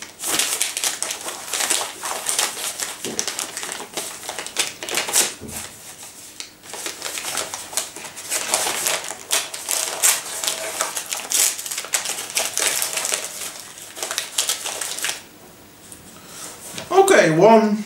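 Crinkly paper rustling and tearing as a paper envelope is opened by hand, a busy broadband crackle lasting most of the stretch with brief pauses, close and fairly loud.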